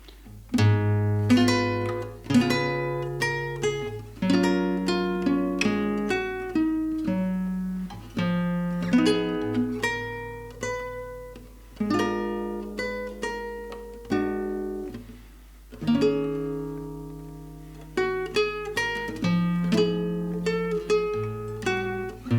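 Solo guitar plays a jazz ballad, a steady run of plucked chords and melody notes ringing and decaying close up, with no voices.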